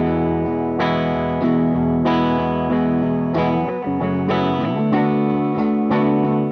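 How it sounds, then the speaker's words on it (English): A DAW music mix runs through a guitar amp and a noise cleaner, giving a full, slightly chorused wash of sustained chords punctuated by regular hits, steady and loud throughout with no talking. "Then the amp sound with the noise cleaner."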